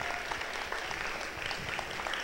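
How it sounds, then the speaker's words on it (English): An audience at a college Black History Month opening celebration claps for Mr. Salter, a dense, steady round of applause filling the whole moment at moderate volume. "Let's give him another round of applause."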